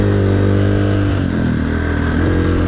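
A KTM motorcycle engine drones loud and steady while riding, its throttle dipping briefly midway before picking back up, with no talk over it.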